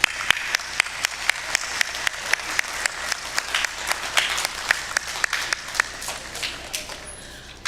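A school audience applauds a group of middle school choir boys at a spring concert, steady clapping with sharp individual claps standing out, moderately distant and continuous for several seconds.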